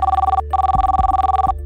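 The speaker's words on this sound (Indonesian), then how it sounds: "Oh, telepon Nizar dulu" An outgoing phone call's ringback tone pulses in two clear warbling bursts separated by a short gap, loud and close, with no speech.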